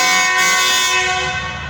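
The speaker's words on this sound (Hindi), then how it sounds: "हॉर्न बजाती हुई" Allama Iqbal Express passenger train sounding a long, steady, loud horn blast as it passes nearby, the tone holding unbroken and fading slightly at the end.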